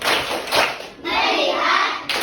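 Class of fourth-grade primary school children doing a rhythmic focus clap in a classroom, with bursts of claps broken by short pauses and children's voices mixed in.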